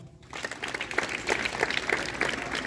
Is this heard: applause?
yes